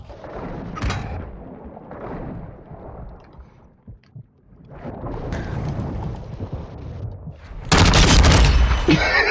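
Shotgun blasts in a video game, heavy booming shots with rumbling tails, a few separated reports and a loud harsh burst near the end, against muffled game noise.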